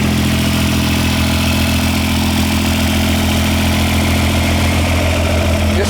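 A John Deere 430 lawn tractor engine runs at a steady idle, close and loud, with an even low drone that holds unchanged throughout and no voices.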